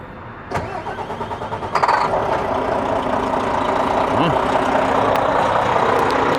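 A truck engine cranks briefly and catches, then settles into a loud, steady close-up idle with a rough mechanical rumble that continues to the end.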